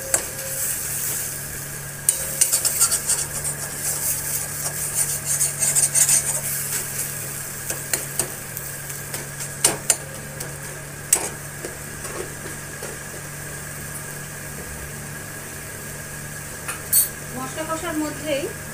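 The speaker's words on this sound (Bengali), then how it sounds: "মশলাটাকে একটু ভালো করে আমরা কষিয়ে নেবো" Spice paste with sugar being stir-fried in a pan, a steady low sizzle under repeated scraping and clinking of a spoon against the pan, moderately close.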